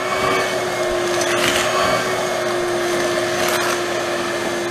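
A vacuum cleaner runs continuously across a new garage's floor, giving a loud, steady motor whine and airy suction roar with occasional rattles of debris being picked up.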